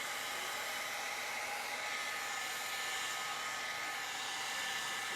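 A Le Volume 60 mm 2-in-1 volumizing brush dryer runs steadily on short curly hair, giving a constant, close airy whoosh and motor whine with no talking.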